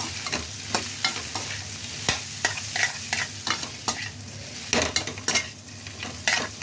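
Drumstick leaves and potato fry over a low flame with salt and turmeric, giving a close, steady sizzle broken by frequent clicks and scrapes of a stirring spoon against the pan, with no speech.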